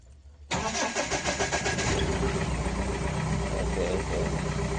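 A Mahindra Bolero BS4 with a starting problem cranks briefly and catches, the engine settling into a loud, close, steady rumbling idle with a rhythmic pulse.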